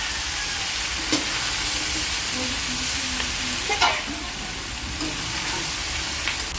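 Chicken feet adobo fries with a continuous loud sizzle in a pan, broken by a few scattered scrapes and clinks of a utensil stirring the pieces, close up and with no voices.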